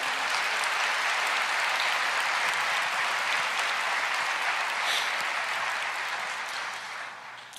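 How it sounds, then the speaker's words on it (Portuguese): Church congregation applauding, a broad, dense wash of clapping that holds steady and begins to taper off near the end, with no voices over it. "Aplauda ao Senhor,"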